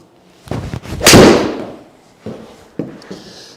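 An 8-iron golf shot on a windy tournament course: a sharp, loud club strike that rings out briefly and decays, followed by a few softer scattered knocks and faint rustle.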